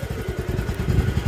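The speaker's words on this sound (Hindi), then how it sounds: "अभी बाइक रोक दो, इधर नहीं चलेगी।" A motorcycle engine chugs in quick, even low pulses at close range, a brief steady running beat on a rough, rain-damaged road.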